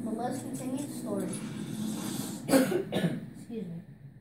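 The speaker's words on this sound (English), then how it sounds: "you might hear me cough because I am sick" A sick man coughs a few times, sharp close bursts breaking up his own steady talk.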